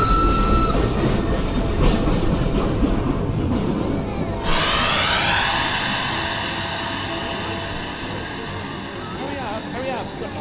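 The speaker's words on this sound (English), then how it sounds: "such as this train station environment containing 195 sources." Busy train station ambience with rumbling rail traffic, a diffuse crowd of voices and announcements, and a rising whine partway through, all steady and moderately loud throughout.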